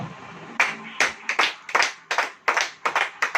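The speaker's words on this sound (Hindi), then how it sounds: "ताली बजाइए जरा।" An audience in a church claps in a loose, irregular rhythm, several sharp hand claps per second, close and distinct with no talking over it.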